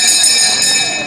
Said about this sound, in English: I will ring the ferry bell to conclude the program